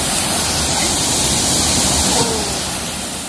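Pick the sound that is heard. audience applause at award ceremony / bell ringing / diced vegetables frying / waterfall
waterfall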